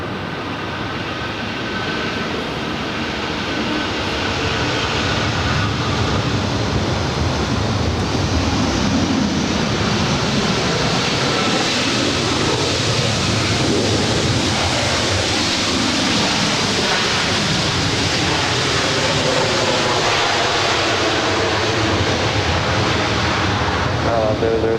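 Jet airliner taking off from runway 24 left at LAX, a broad, loud roar that swells over the first few seconds and then holds as a steady, rushing wash of engine noise.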